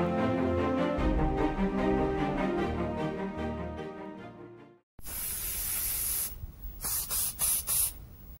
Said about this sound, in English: I sprayed primers from a distance to only get spritzes instead of an actual coat